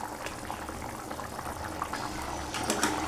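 Soybean and potato curry bubbling gently in a pot, a steady soft simmer with small pops and fizzing, alone and close.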